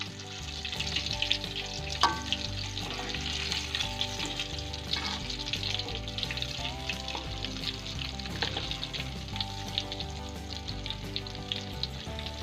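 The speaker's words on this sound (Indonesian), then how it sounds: "Kemudian kita goreng semuanya sampai warnanya agak kecoklatan." Banana pieces frying in hot oil, a steady close sizzle and crackle with occasional stirring clinks, no voices.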